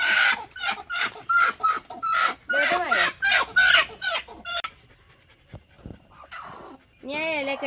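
Chickens cluck and squawk in rapid, close bursts, with a rooster-like call among them, then a quieter stretch before another loud outburst.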